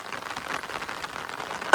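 Rain falling steadily on a farm in rural Konkan where bullocks are used for ploughing, a continuous close hiss that swells into a louder burst near the end.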